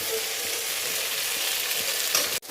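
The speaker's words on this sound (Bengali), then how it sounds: "এবার ওতে আমি জিরে আর আদা বাটা দিয়ে আরেকটু মশলাটা কষে নেব।" Vegetables frying in a pan with cumin and ginger paste, giving a loud, dense, continuous sizzle close up that cuts off abruptly near the end, with no one talking.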